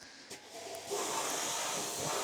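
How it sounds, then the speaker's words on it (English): A steam cleaner hisses on the underside of a BMW E36, starting with short spurts and then settling into a steady, loud, close jet of steam. "I'll use the steamer just to blow off any oil and that"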